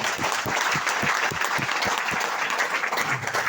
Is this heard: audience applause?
yes